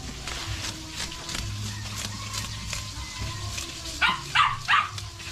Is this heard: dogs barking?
yes